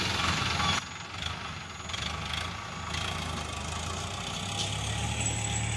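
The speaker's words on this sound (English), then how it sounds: "Dumating ulit yung tractor, tapos magtatanim tayo ng mais." A tractor engine runs steadily at a corn planting field in the afternoon, a continuous low mechanical drone with a rougher burst at the start, close and fairly loud throughout.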